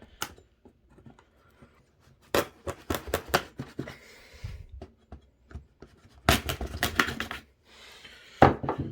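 Package tape on a parcel is cut open with a blade-like tool, producing a series of close, sharp scraping and slicing bursts with crinkly handling noises between them.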